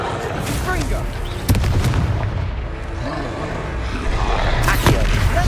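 Blasts from the Confringo fire spell in Hogwarts Legacy erupt as sharp booming bursts, one at a time, amid combat noise and a spoken voice.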